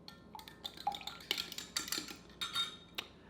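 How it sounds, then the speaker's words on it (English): Two eggs whisked in a liquid measuring cup: quick irregular clinks and taps of metal against the cup, close and fairly quiet, with no voices. "that is whisking our eggs"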